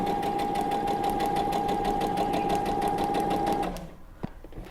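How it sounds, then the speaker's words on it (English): A sewing machine stitches a garment neckline in a steady, fast whirring run close by, then stops abruptly near the end, leaving a quiet pause with a small click. "Okay, so now we'll just sew."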